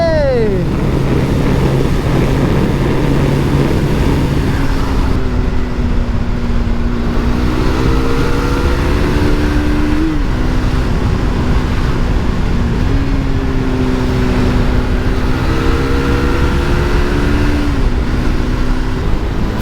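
A motorcycle engine runs close by with a steady droning note that climbs and falls through several revs, and wind noise rushes over the microphone throughout.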